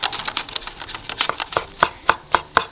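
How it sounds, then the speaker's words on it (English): Finely chopping fresh parsley with a knife on a cutting board, a quick run of sharp, close taps that slows into a few distinct, evenly spaced chops, with no talking. "finely chop some parsley or whatever herb you have on hand"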